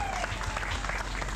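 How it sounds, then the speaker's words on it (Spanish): Applause from an audience at a recognition ceremony in Paz de Ariporo, a dense steady wash of clapping held at an even level for a brief moment, with no pause or break. "Fuerte el aplauso, Montañas del Totumo."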